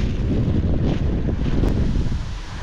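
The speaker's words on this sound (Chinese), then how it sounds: "这个风也是抽了，今天又是刮风又是下雨，你看一阵一阵的。" Wind blowing at a Yangtze riverside during rain, a steady loud gusting roar buffeting the microphone, low and dense throughout with no voices.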